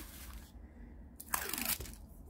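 A diamond painting sheet tears once by hand, a short, close, crisp rip of under a second against quiet room tone, with no talk.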